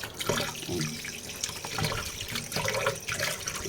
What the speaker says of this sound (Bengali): মাংসটা আগে ধুয়ে নিই